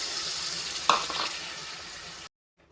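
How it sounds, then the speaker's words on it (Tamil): Chopped tomatoes fry in oil for Nellai-style brinjal thokku, a soft close sizzle with one brief clink near the start before the sound cuts off abruptly. "தக்காளி வந்து நல்லா எண்ணெயில் கொஞ்சம் நேரம் வேகட்டும்."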